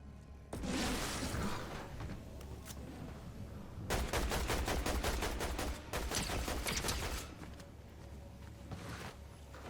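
Fortnite Zero Build gunfire, loud rapid bursts of automatic shots in two strings separated by brief pauses, with scattered single shots and game ambience around them.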